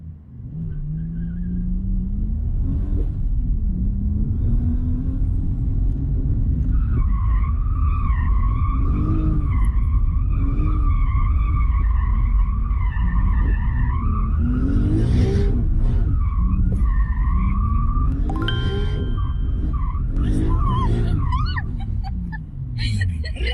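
Drift car skidding and spinning out on a wet surface, with long, loud tire squeals and shifting engine roar over a constant rumble, under continuous talking.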